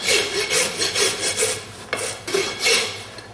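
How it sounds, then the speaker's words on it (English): A farrier's rasp scrapes back and forth across a horse's hoof in quick, rhythmic strokes, each pass a close, gritty rasp with brief pauses between them. "just lightly rasp this around here to take that flare in"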